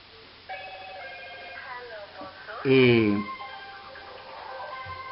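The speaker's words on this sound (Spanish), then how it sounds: "el celular está sonando, suena 1000 veces por día hoy." A mobile phone ringtone plays a repeating melodic tune, with a louder burst of tones in the middle and faint background noise.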